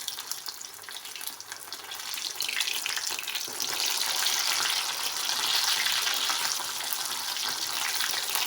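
Potato pişi dough frying in hot oil, a steady close hiss and crackle that swells louder partway through and holds without pause.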